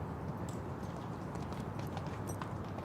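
Horse hooves thud on the outdoor arena footing during a 1.45m CSI3* show jumping round, a steady clip-clop of a cantering stallion at moderate distance under a faint crowd hum.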